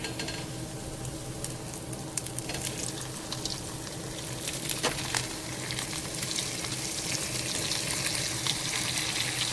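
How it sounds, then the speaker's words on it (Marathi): Fish fries in hot oil on a griddle pan over a high gas flame. The sizzle is dense, steady and loud, with faint crackles and pops scattered across it and a brief flare near the middle. "तेल चांगलं तापलंय, यावरती फिश ॲड करूयात."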